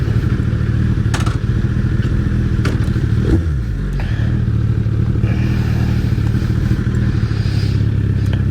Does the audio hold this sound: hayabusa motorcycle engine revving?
yes